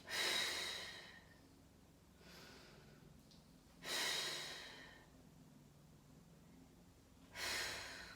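Slow breaths during a Pilates exercise, three soft airy exhales spaced a few seconds apart with quieter inhales between, close and clear with no talk.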